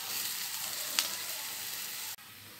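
Mashed tapioca going into onions sautéing in a pan gives a steady hissing sizzle throughout, with one brief sharp clink near the start and an abrupt drop in level near the end.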